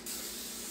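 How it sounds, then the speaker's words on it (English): Cooking spray hisses steadily from an aerosol can onto a pan for potato wedges, one continuous close spray with no pauses and no talking. "cooking spray here. This is just gonna prevent any sticking at all"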